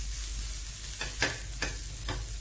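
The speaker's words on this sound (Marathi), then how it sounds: "कांदा छान आपल्याला जरा असं जाळून घ्यायचा आहे" Chopped onion fries in a hot pan with a steady close sizzle, broken by a few brief scraping stirs, and no voices over it.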